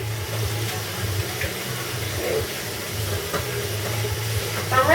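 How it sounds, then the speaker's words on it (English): Garlic cloves rinsed under a running tap, a steady close splash and rush of water with small bumps, under a faint murmur of voices. "So I'm rinsing off the garlic."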